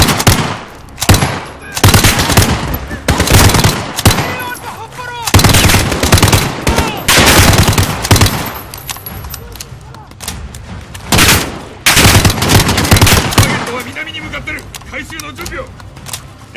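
Rapid bursts of automatic gunfire and single shots from Call of Duty: Modern Warfare campaign combat, loud and dense, coming in repeated volleys with brief pauses, with soldiers' voices shouting in between.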